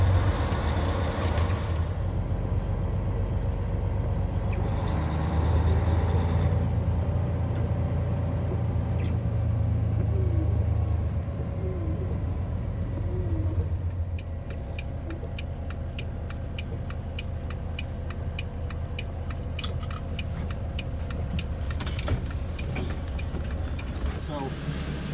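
A motorhome drives along a road in a Chicago blizzard, a steady low rumble of engine and tires with faint ticking and rattles inside the cabin and a voice talking over it.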